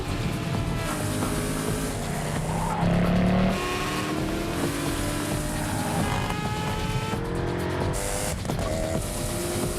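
A Pagani Zonda supercar races in a PlayStation 4 game trailer, its engine revving and shifting through rising and falling pitches, with tire squeal and other race cars passing loudly under music.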